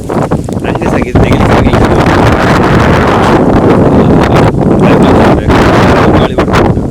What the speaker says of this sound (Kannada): ಅಷ್ಟು ಗಾಳಿ ಉಂಟು ಇಲ್ಲಿ.